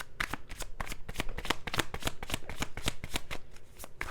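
Tarot cards are shuffled for a reading in quick, rhythmic riffles, a dense run of crisp papery flicks repeating close up with no talk.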